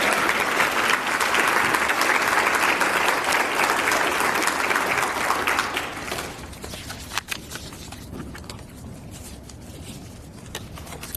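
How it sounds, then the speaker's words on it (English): A crowd at a chamber of commerce education event claps loudly and steadily for several seconds for award winners, then the applause thins out to scattered claps and quiet room noise. "can we hear a round of applause for all of our winners?"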